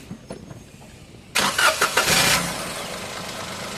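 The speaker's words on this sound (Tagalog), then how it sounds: "Pina-start ko itong makina ni customer" A Toyota Wigo engine cranks with a few quick bursts and catches after an oil change, then settles into a steady idle close by.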